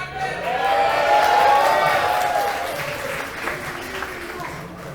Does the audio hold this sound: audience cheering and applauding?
yes